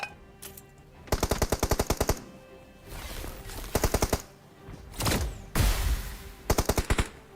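Automatic gunfire in the battle royale game BGMI, with several sharp, rapid bursts of shots separated by short pauses and quieter in-game ambience.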